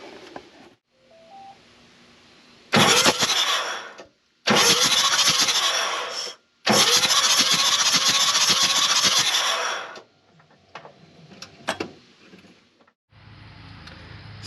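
A Ford 6.9/7.3 IDI diesel engine with fresh injectors cranks over in two long, loud bursts of starter whir with rhythmic compression pulses, framed by beeps and quieter clicks and scrapes.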